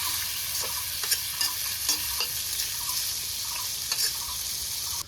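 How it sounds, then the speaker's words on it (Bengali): Marinated mutton stirred into fried onions in a hot pan, a dense continuous sizzle close by with scattered scraping clicks from the stirring. "এখনই মাখানো মাংস দিতে হবে। নেড়ে চেড়ে মিশিয়ে দিলাম।"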